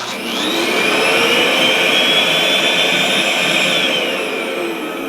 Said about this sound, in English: this is the smallest handheld vacuum that I have that's corded, and it'll run it for a little bit